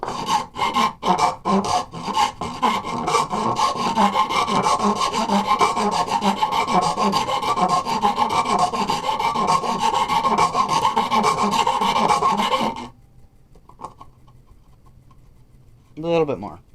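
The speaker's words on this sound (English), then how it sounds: "Now I'm just going to take this rat tail file and enlarge the hole so this nipple fits through." A rat tail file rasps back and forth in a hole in wood, enlarging it for a hose reel nipple, with steady repeated strokes for several seconds, then stops, followed by a brief faint scrape.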